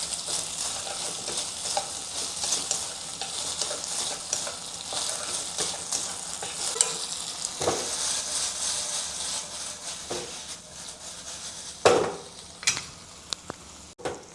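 Chicken pieces stir-frying in a pan with dark soy sauce, a steady close sizzle and crackle with scraping stir strokes and a few sharp clinks of the utensil against the pan.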